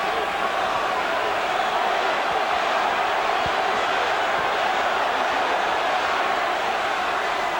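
Steady roaring crowd noise at the 1993 George Foreman vs Tommy Morrison boxing fight, a continuous broad wash of cheering that holds level throughout, with a commentator's voice faintly beneath it.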